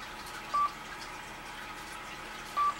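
Two short electronic keypad beeps from an Anytone AT-3381UV-A handheld radio during CTCSS setup, spaced about two seconds apart over a faint, quiet background.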